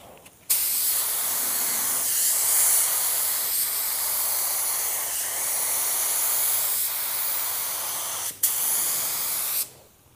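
A spray gun lays a coat of paint on a car in a loud, close, continuous hiss. The hiss starts suddenly, breaks briefly near the end and then cuts off sharply, with no talking.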